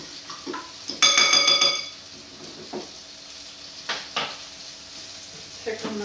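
Chicken wings fry in a pan with a soft steady sizzle, broken by a few clinks and scrapes of a utensil against the pan.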